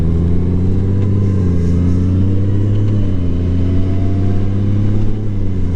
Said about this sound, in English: As this DCT transmission switches through the gears seamlessly, smoothly.